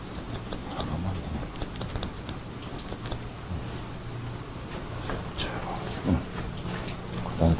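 Scissors snip through a man's hair during a short upper-back haircut, crisp irregular clicks close by under ongoing talk.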